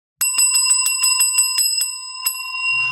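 A bright bicycle-style bell rings loud and close in a quick run of about nine dings, then one more strike, each note ringing on before a faint low rumble at the end.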